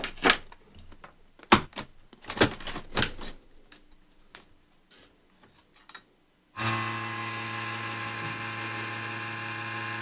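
Several sharp clicks and clunks, then a faulty Asus X550JK laptop cooling fan starts abruptly with a loud, steady whirring drone and harsh tonal buzz, running without letup.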